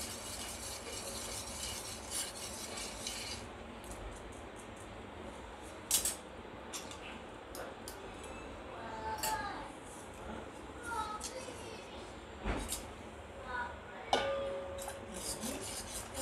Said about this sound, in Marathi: आता याच्यामध्ये आपण हे हळूहळू करून मिश्रण टाकूया. आणि मिक्स करत राहू.